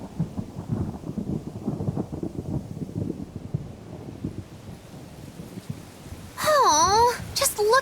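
Rain with low rumbling thunder in a storm in Tales of Berseria, on a rainy day at the Aldina Plains. A steady wash with rolling rumbles sits under murmuring voices, then bright swooping chirp-like tones cut in near the end.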